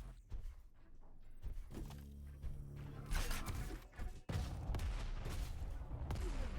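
Explosions and weapon fire in the arena shooter Diabotical during a pro duel match, a burst of sharp blasts and booms with a heavy thump midway, over layered game effects.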